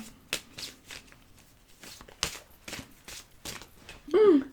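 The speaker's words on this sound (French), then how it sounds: "J'avais pas assez mélangé mon jeu" A deck of cards shuffled by hand, with a series of short, crisp riffles and flicks repeating at uneven intervals, close and clear. A voice briefly speaks at the very end.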